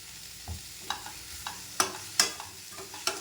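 Guava pieces stirring and sautéing in a pan for chutney, a soft steady sizzle with a few sharp scrapes and clinks of the spoon against the pan, fairly quiet and close, with no talking.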